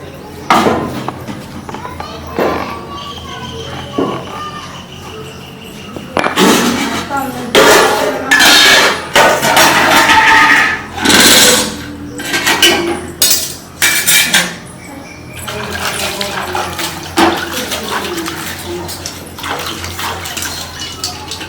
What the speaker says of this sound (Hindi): हम बर्तन धोइ छी